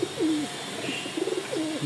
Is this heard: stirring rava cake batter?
no